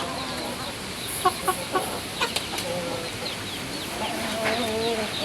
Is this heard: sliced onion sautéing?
no